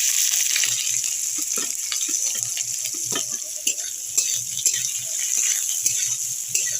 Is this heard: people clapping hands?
no